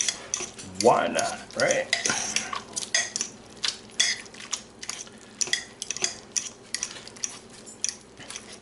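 Tender Mississippi chicken and pepperoncinis shredded in a pot, with repeated scraping and clinking of a utensil against the pot and a soft wet tearing through the meat, close up, with a brief spoken remark.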